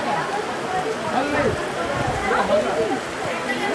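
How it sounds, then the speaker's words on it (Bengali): Heavy rain falling at a temple, a steady wash of rainfall heard close by under a person talking throughout. "প্রচুর বৃষ্টি হচ্ছে এখানে।"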